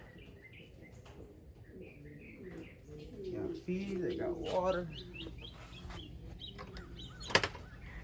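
Racing pigeons in a loft after a 150-mile race coo and chirp close by while someone talks over them, with a brief sharp knock near the end.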